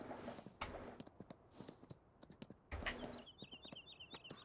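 Hooves clop at an uneven pace in a Farming Simulator 19 horse riding mod, close and crisp, with a brief chirping birdsong near the end.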